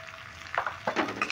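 Turmeric and cumin powder sautéing in a pan for a cauliflower paratha stuffing, with a low sizzle and a few quick spatula scrapes and clinks.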